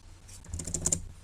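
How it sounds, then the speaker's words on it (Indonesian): Typing on a computer keyboard in Microsoft Word, a short burst of several crisp, close key clicks in quick, uneven succession with no speech. "kita mengetik kata yang sama seperti tadi"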